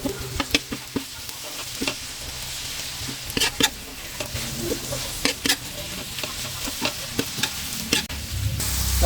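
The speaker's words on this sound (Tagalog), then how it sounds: "Igigisa lang natin guys maigi yung ating pork giniling para talagang luto siya." Ground pork sautés in butter and oil with onion and garlic, a continuous sizzle punctuated by repeated sharp spatula scrapes and taps against the pan, close and fairly loud.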